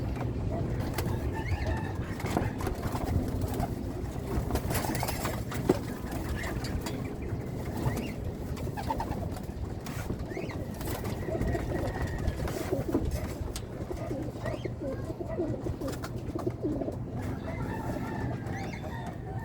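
Racing pigeons coo and cluck continuously at close range, several calling over one another, with faint voices and background noise mixed in.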